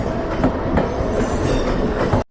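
A Mumbai local train runs close by with a loud, continuous rumble, rhythmic wheel clatter and a faint high squeal of wheels, with no voices.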